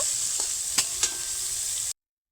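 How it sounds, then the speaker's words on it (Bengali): Finely chopped onion fries with grated ginger and garlic in a pan, giving a steady hiss. Two or three quick clinks of stirring sound before it cuts off abruptly, with no speech. "আমি ওর মধ্যে দিয়েছি পেঁয়াজ কুচি পেঁয়াজটাকেও একটু ভেজে নেব"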